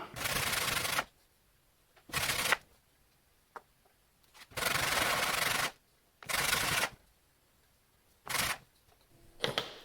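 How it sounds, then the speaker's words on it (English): Repeated bursts of light sanding on turned wood veneer layers, short rasping strokes separated by quiet pauses, close by. "it was Time for some more light sanding."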